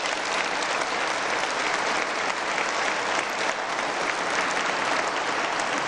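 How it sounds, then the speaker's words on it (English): Audience at the West Virginia State of the State Address giving sustained applause for Kent Leonhardt, a loud, even, dense roar of clapping throughout with no speech over it. "So please give a big round of applause to Kent Leonhardt."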